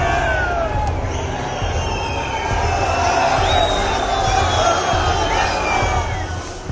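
An angry protest crowd in Shimla shouting slogans while marching toward a mosque, a dense roar of many voices with rising shouts and whoops, steady and loud throughout.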